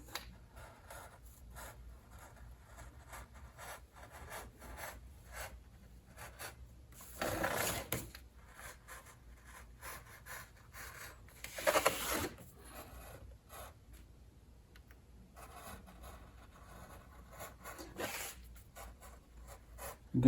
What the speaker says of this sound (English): What I can do now is take my X-Acto knife and cut out around all this stuff.